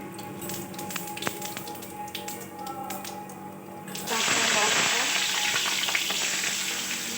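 Whole cumin seeds hit hot oil and burst into a loud, bright sizzle partway through, after a stretch of quieter kitchen clatter and stirring; the frying hiss holds steady and close to the end.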